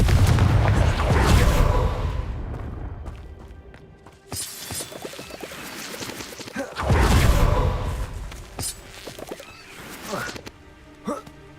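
Confringo explosive spell cast in Hogwarts Legacy, heard as two loud booming bursts with crackling, shattering tails about five seconds apart, set among game sound effects and ambience.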